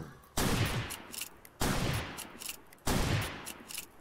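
Video game gunfire in three separate bursts, each a sharp loud blast trailing off into a rumbling decay, evenly spaced a little over a second apart, no talking.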